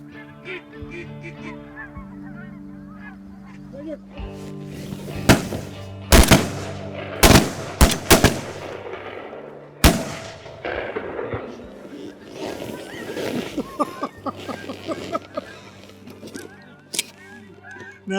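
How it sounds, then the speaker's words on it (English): Shotguns fire during a duck and goose hunt, several sharp loud blasts in a quick cluster with scattered later shots, amid honking geese calls before and after and brief voices. "Now that's a duck shoot."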